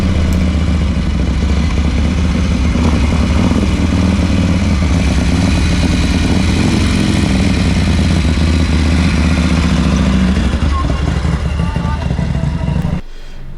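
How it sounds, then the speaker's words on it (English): Three-wheeler race motorcycles with V-twin engines of various ages rev and rumble loudly together in a holding area at a race meeting, a dense continuous engine roar that cuts off abruptly at the end. "They all seem to be powered by V-twin engines of various ages"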